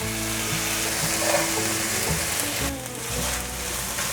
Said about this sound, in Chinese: 继续快速的翻炒